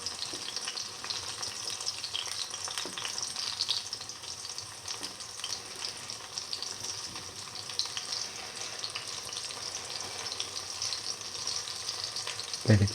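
Tomato, fenugreek leaf and chickpea fritters frying in oil, a steady close sizzle and crackle that runs unbroken throughout with a brief clunk near the end, no voices.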